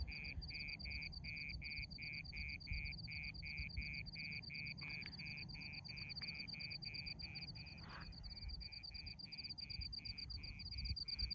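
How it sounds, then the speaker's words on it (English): Steady, rapid pulsing chirps repeat without pause over a quiet outdoor hum, like insects or frogs calling together at night. "It is completely deserted here at the moment, just me and the crickets."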